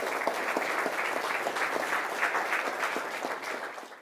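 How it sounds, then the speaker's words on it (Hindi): An audience at a school panel discussion applauds to welcome a panelist, a dense, even patter of many hands clapping throughout, fading slightly at the end. "इनका भी जोरदार तालियों से स्वागत कीजिए।"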